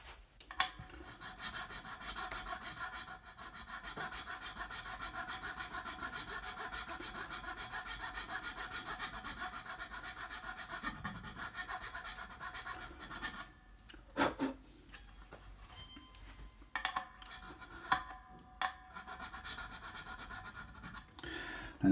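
A small 0.026-inch nut file works a string slot in the nut of a Gibson Les Paul Studio guitar, giving a steady, close, continuous rasping stroke for much of the time before breaking into short, intermittent scrapes.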